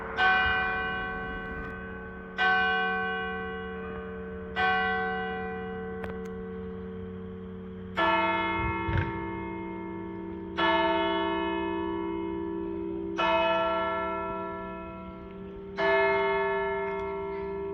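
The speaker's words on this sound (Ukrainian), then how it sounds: "Годинник той, що на дзвіниці дав знати усім в окрузі, що уже четверта година пополудню." A church tower clock bell in the village of Schwendi, Baden-Württemberg, strikes four o'clock in the afternoon: deep resonant tolls a couple of seconds apart, each ringing out and fading before the next, heard from a distance without voices.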